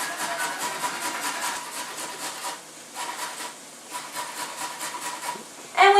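Carrots are rubbed against the coarse side of a metal grater in fast, steady, rasping strokes. The scraping runs continuously for several seconds, pauses briefly, then a louder clatter comes at the end.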